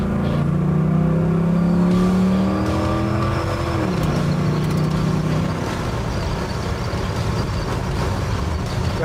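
Custom 1967 Pontiac Tempest sleeper car driving through a turn, heard from inside the cabin: a steady engine drone with shifting revs, a drop in pitch partway through, and continuous road rumble throughout.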